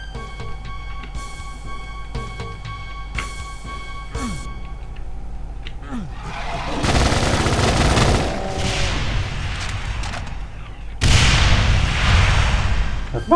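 Gunfire from a weapon in the tactical survival horror game Extermination Day: a few isolated shots at first, then loud sustained bursts of rapid fire with booming impacts, the heaviest volley near the end.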